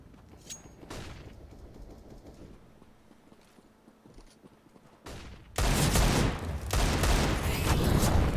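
AK rifle fire on the Dust 2 map in a Counter-Strike match: scattered sharp shots and clicks early on, then a loud, dense, sustained burst of gunfire taking over the second half.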